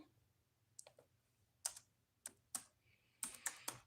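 Keys tap on a computer keyboard in short bursts of crisp clicks, spaced irregularly with brief pauses between them. The typing is close and quiet over a faint background hum, and nobody speaks.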